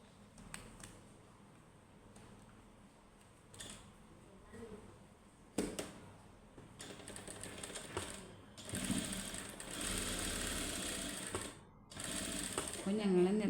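Sewing machine stitching a frock during a tailoring class, with intermittent short runs and then a longer stretch of steady whirring, while someone talks over and between the stitching.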